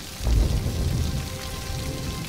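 Steady rain falling outdoors, a dense broadband hiss with low rumble throughout, close and moderately loud with no voices.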